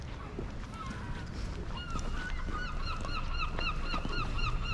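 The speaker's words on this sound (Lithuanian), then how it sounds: "Kai pasiilgau to žuvėdrų klyksmo." Seagulls call repeatedly at a marina full of boats in autumn, their high squawks and honks rising over a steady outdoor background, some close and some farther off.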